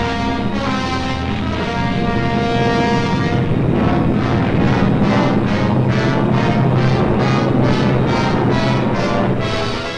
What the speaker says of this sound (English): 500 German bombers and Messerschmitt fighters roared over the English coast